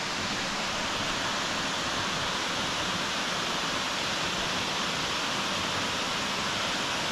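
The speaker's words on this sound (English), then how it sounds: "Stunning waterfalls." Florence Falls in Litchfield National Park roars as a steady, full, unbroken rush of falling water, close and loud, with no voices over it.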